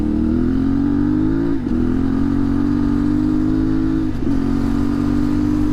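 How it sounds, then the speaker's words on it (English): CFMoto Ibex 450 adventure motorcycle engine on a gravel ride, a loud steady mid-pitched drone close to the rider with two brief dips in revs, no talking. "Yeah, man, this bike sounds so good."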